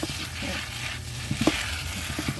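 Glass noodles stir-frying in Korean sauce, a constant sizzle under soft scraping and tapping from the spatula moving the noodles around the pan.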